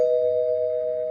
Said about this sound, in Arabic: قبل ما تستوعب الجرس بيرن لتالت مرة